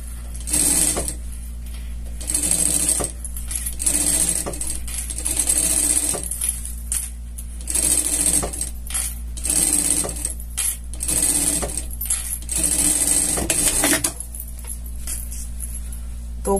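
Sewing machine running a safety stitch on fabric for a scout costume, stitching in repeated bursts of a second or two with short pauses between, steady and close throughout.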